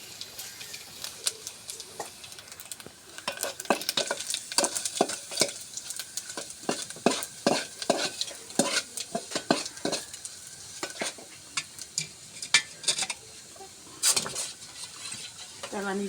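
Panch phoron spices crackle in hot oil, with dense irregular pops and spoon clatter against the pan throughout, loud and close with no talk.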